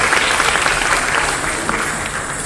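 Brisk, steady audience applause following a stage performance at a Deepavali celebration, loud and full, easing slightly toward the end.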